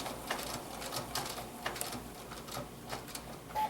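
A sewing machine stitching appliqué leaves onto an autumn table topper runs in a steady, close, even hum with short bursts and pauses as the fabric is pivoted.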